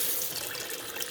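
Tap water running steadily from a kitchen faucet into a container during cooking, a constant hiss and splash at close range with no talking.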